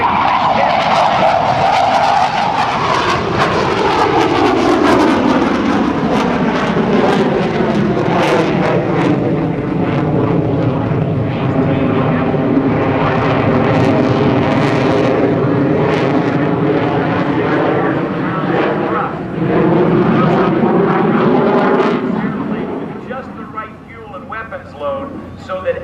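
An F/A-18C Hornet fighter jet with GE engines roars at an airshow, a loud sustained jet whine sweeping in pitch as it pulls from level flight into a vertical climb, fading near the end, with an announcer talking over it.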